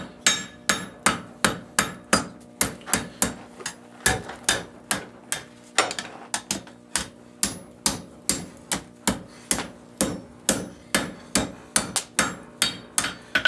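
A blacksmith hammers a steel point on an anvil, striking in a steady, evenly spaced rhythm of loud, ringing metallic blows with brief pauses between runs.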